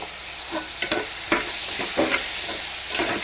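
Mutton and chana dal sizzle in a pan with salt added, a close, steady frying hiss broken by several sharp scrapes of a spoon stirring the pieces.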